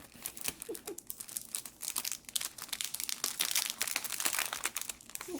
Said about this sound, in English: Sorry for the crinklies.